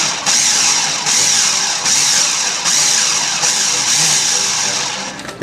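A food processor pulses cheesecake crumbs with melted butter in loud, repeated bursts of motor whir, each pulse separated by a brief dip, with a rattling, gritty churn throughout.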